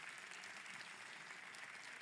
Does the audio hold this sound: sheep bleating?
no